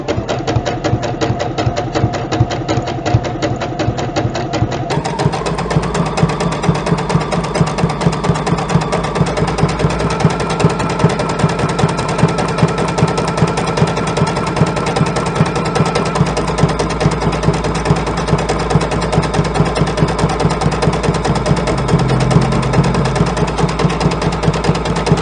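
A JUKI sewing machine fitted with a fringe foot runs steadily through fabric, its rapid needle hum and mechanical chatter continuous and close. The pitch lifts slightly partway through, with no talk.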